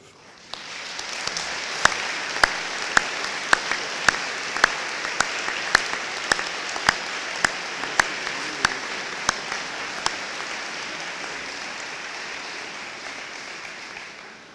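Audience applause for returning alumni at a commencement ceremony, a broad steady clapping from a large crowd with one sharp, rhythmic clap ringing out close above it before the sound settles and tapers.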